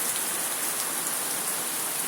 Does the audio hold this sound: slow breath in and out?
no